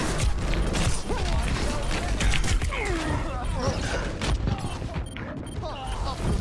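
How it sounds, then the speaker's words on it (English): Torbjorn's turret keeps firing in a loud, rattling mechanical stream during an Overwatch quickplay match on Ilios, mixed with game effects and voices. "My turret's still firing."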